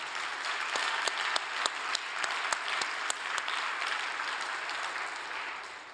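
An audience at a gathering breaks into sustained applause, dense even clapping across the room with a few sharper nearby claps standing out, slowly tapering toward the end.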